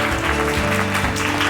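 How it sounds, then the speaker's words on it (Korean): Audience applause in a Korean lecture hall, a steady wash of clapping that stays full and even throughout, with sustained tonal music playing under it. "박영택 교수님을 큰 박수로 맞이해 주시기 바랍니다."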